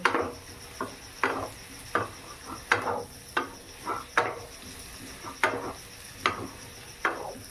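Spiced jackfruit and potato are stirred in a pan, about a dozen sharp scraping strokes at a regular pace over a faint low sizzle, close by with no speech.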